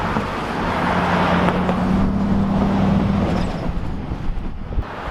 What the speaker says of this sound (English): there's really no getting away from the traffic noise